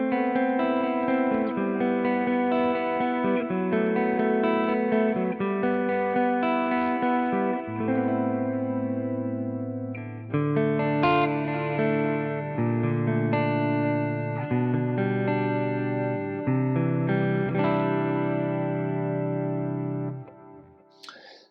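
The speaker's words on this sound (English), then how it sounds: "clean, chorusy thing that you would get in some of that late 80s rock tone" Clean electric guitar tone with chorus, analog delay and hall reverb on a Quad Cortex 80s rock preset, shimmering sustained chords and arpeggiated notes ringing out for about twenty seconds.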